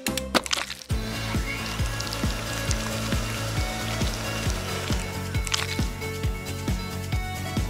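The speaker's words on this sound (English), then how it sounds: "We can mix our batter now!" Toy cake batter being stirred in a play kitchen set, a steady run of soft, even, rhythmic scraping and tapping strokes, close and alone after a brief clatter at the start.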